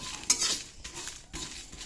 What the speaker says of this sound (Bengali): এটা একটু ভালো করে ভাজবো, ভেজে তারপরে গুঁড়ো করে তারপর দেবো